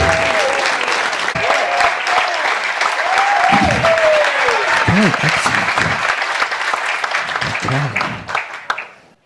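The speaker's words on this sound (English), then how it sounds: "Give a big round of applause." Steady applause from a crowd at an award ceremony, sustained for several seconds before tapering off at the end, with voices faintly audible underneath.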